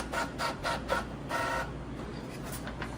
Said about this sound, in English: We're going to print out a ticket here for a backup cut sheet or DNR log on this printer right here.